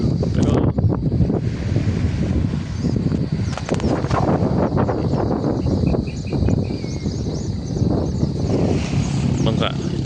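Steady wash of ocean waves against wind buffeting the microphone, with a faint boat motor humming in the background throughout.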